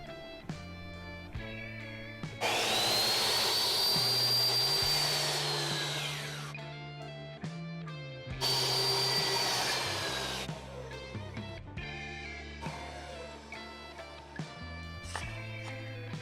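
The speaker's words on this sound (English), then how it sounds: "So I'm going to be using the miter saw." A miter saw cuts small wood pieces for a book holder in two long, loud whining bursts separated by a pause, with background music running throughout.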